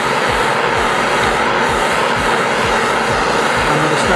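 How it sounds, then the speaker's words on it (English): A propane torch flame roars steadily and loudly as it heats stainless steel for brazing with silver solder rod, a constant broadband rush with no pauses. "braze this at 1150 degrees with our SSF-6 and a propane torch"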